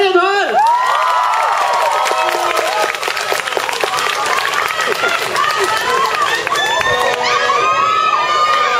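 A concert crowd at a live show by a band, cheering, whooping and applauding steadily to welcome the group, dense and loud throughout, with shouting voices over the continuous clapping.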